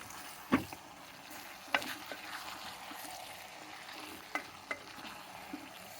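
Tamarind pulp mixture stirred in a pan for rasam, soft scraping strokes with a few sharp clinks of a spoon against the pan, close but quiet, with no talk.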